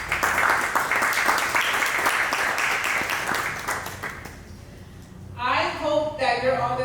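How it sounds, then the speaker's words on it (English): An audience at a mental health storytelling event applauds with dense, steady clapping for about four seconds, then the applause fades and a voice begins speaking close by. "can you all give yourselves a round of applause for just being here today?"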